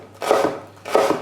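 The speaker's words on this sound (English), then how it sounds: "Run our knife across nice and slow." A knife drawn slowly through an onion on a chopping board, two distinct slicing strokes about half a second apart, close and clear with no talking.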